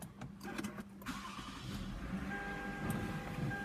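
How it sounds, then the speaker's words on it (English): A Toyota Avalon engine cranks and catches near the start, then settles into a steady, moderately loud idle hum with a faint whine over it. "Let me start the vehicle."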